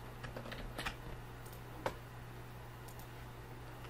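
Fingers type on a computer keyboard during a web design tutorial, with soft, scattered clicks in irregular bursts and one sharper tap midway, faint over a steady low hum.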